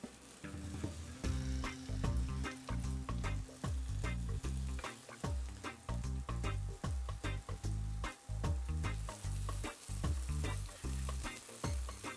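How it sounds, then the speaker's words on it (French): Steaks frying in a pan with a drizzle of olive oil for homemade burgers, a loud steady sizzle with crackling spatters and occasional stirring or scraping knocks throughout. "nous allons faire cuire les steaks avec un petit filet d'huile d'olive"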